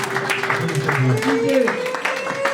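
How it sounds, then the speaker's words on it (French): An audience at a year-end holiday celebration claps briefly for a woman being honoured, with scattered, loose claps mixed under a prominent voice. "Applaudissez pour elle."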